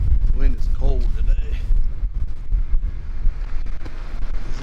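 Cold wind blows across the microphone at the top of a farm grain bin during corn harvest, a low rumbling gusty roar that persists throughout, with a brief voice near the start.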